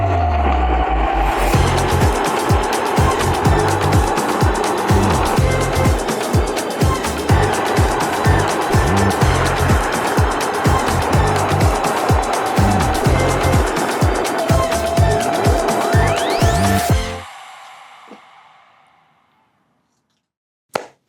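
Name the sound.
go-kart driving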